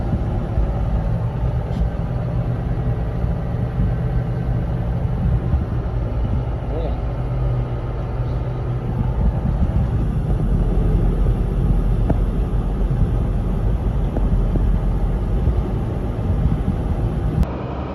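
A combine harvester unloads winter barley into a trailer at harvest, its engine a loud, steady rumble and the grain pouring in with a continuous rushing hiss. The noise never lets up, and a voice talks over it.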